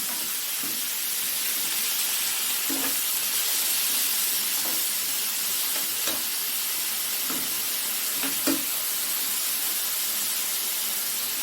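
Cubed elephant yam tossed with salt stir-fries in a pan over popped mustard seeds, giving a loud, steady frying hiss broken by soft, irregular scraping stir strokes, with no talking.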